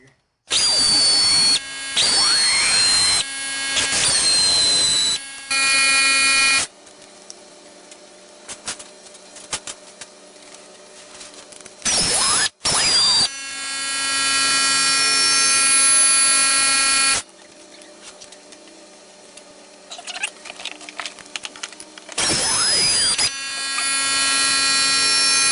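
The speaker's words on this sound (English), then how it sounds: "So now I'm going to take the 10mm bolts off the spark plug coil pack." A power tool whirs in loud bursts, removing the 10mm bolts from the spark plug coil pack on a 2001 Chevy Prizm with a blown engine. Quieter gaps between the runs carry faint rattling and handling noise.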